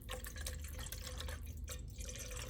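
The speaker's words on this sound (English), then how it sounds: "you're going to pour your milk in here" Milk is poured into a pot of melted butter on a cooler stovetop burner, a soft, steady liquid splash and trickle that stays quiet and close.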